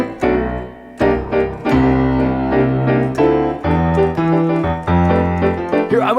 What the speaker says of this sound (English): Then I also in the bass line, I started doing octaves.